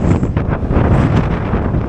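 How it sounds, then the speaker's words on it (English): Strong gusty wind buffets the microphone while hiking across mountain country near the Switzerland–Liechtenstein border, a loud roaring rumble with surging gusts and no voice. "The wind is blowing me in this direction. The wind is so strong"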